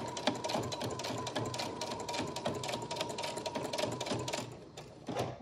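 A sewing machine runs steadily back-stitching a fabric face mask, a fast, even mechanical chatter of the needle with a constant whine, close and alone, slowing and stopping at the end.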